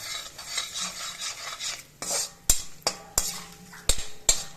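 Curry leaves and asafoetida fry in a pan with urad dal for an elephant foot yam curry, a soft steady sizzle broken by several sharp metallic clinks of a spoon stirring against the pan.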